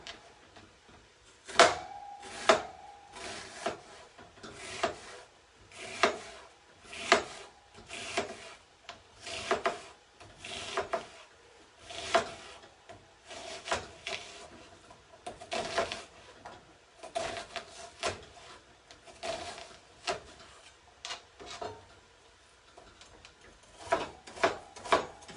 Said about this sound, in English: We are going to just chop up one onion and one onion only.